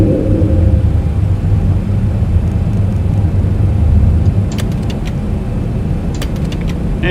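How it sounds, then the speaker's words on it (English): Landing gear lowering on a simulated Boeing 737 in X-Plane 12: a heavy, steady cabin rumble that shifts and thins partway through, followed by a few faint clicks. "I think we'll go ahead and get the gear down"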